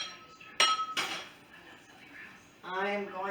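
A spoon clinks and scrapes in a pot while potatoes are dipped up, a couple of sharp metallic knocks and a brief rattle, with someone talking in between.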